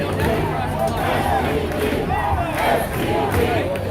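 Protest crowd in Seattle cheering and shouting, a dense steady roar of many voices with rising swells of yells throughout, loud and close.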